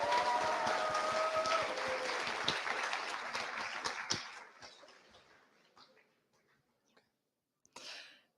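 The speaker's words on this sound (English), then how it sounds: "Can we get another round of applause for all of our performers tonight?" A crowd applauds performers at a university year-end celebration, loud sustained clapping that fades out over several seconds, then a short final flurry.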